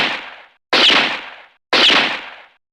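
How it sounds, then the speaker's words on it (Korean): Three loud gunshots ring out in a dramatized chase scene, spaced about a second apart, each a sharp blast trailing off with a long echoing decay and no voices over them. "총성이 울립니다."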